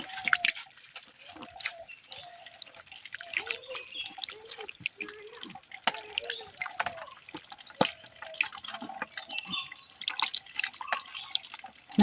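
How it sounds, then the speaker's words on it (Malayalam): Water is poured over feet to rinse off a whitening paste, giving irregular splashes, drips and trickles close by, with scattered louder splatters and small bubbling gurgles across the whole stretch. "ഇനി കാലിലേക്ക് അല്പം വെള്ളം ഒഴിച്ച് കഴുകിയെടുക്കാം."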